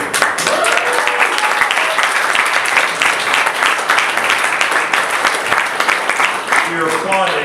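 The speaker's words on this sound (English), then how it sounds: "We're applauding" Dense, sustained applause from a large audience at the 2016 Toronto International Film Festival fills the room throughout, with faint voices mixed in.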